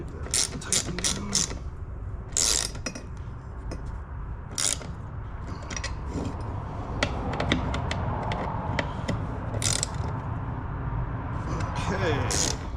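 Ratchet tightening a part on a skid steer during a safety switch and seat install, with rapid clicking strokes in repeated bursts over steady background noise and occasional talk.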